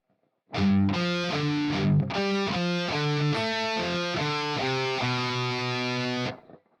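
An electric guitar with distortion plays an arpeggiated measure from a song, a run of picked notes ringing into sustained chords, loud and alone.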